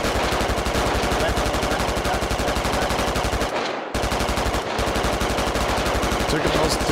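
Sustained automatic gunfire in the military shooter game Squad, dense rapid bursts that run loud and nearly continuous, with two brief gaps where the shooting cuts out before resuming.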